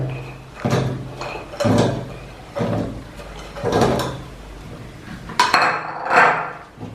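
Someone handles a large mixer-grinder jar while preparing to grind Oreo biscuits for a homemade cake, with several clunky knocks, clatters and scrapes of the jar and lid spaced out over a few seconds, close and fairly loud.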